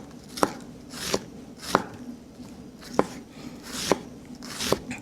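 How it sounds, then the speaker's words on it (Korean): A knife slices ingredients on a cutting board while making ramen, giving six crisp, evenly spaced chops that stand out clearly over a quiet room. "그냥 여기서 썰어 주시면 됩니다."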